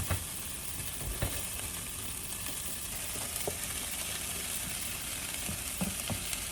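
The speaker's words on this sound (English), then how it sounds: "So I added 1 egg to the side. You guys can probably hear it." One egg sizzles steadily in a hot pan beside vegetables, with occasional scraping and tapping as it is stirred and scrambled, close and fairly quiet with no talking.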